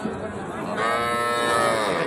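Cattle at a livestock market selling Sahiwal bulls and heifers give a long, loud moo that swells and holds for about a second and a half, with crowd murmur beneath.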